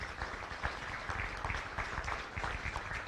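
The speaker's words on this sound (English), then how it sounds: "Give these kids a good round of applause." A crowd at a county beef show claps for kids showing heifers, a moderate, even patter of applause from a mid-distance audience.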